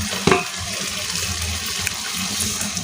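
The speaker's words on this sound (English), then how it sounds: "So we're pouring water" Water is poured while fish cooks over a charcoal fire, giving a steady broadband hiss and splash with one sharper splash near the start, close and moderately loud.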